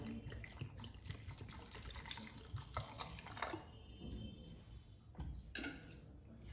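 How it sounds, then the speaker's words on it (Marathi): Cold water poured into a sattu drink, a quiet gurgling splash of liquid filling a vessel with a few faint drips and clinks, close and without speech. "नंतर याच्यामध्ये अगदी थंडगार पाणी टाकायचं"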